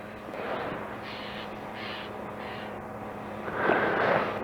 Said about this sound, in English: And every now and then a little cry of a bird